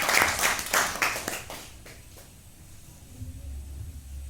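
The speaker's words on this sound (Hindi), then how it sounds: "तो इसके लिए आप अपने लिए तालियां बजाएं" An audience claps at a Hindi poetry recitation, loud at first with a few distinct claps, then thinning out and dying away into a quiet room with a low hum.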